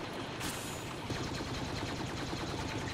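Dense, continuous blaster gunfire from the video game Star Wars Battlefront in a Walker Assault online battle, many shots overlapping into a steady, loud barrage.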